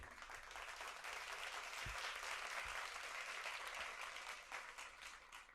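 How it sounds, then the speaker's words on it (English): An audience applauds a guest being introduced at a live event, steady dense clapping filling the room for several seconds before easing slightly at the end, with no one speaking over it. "I want y'all to give a round of applause for my boy Jabari Hakeem."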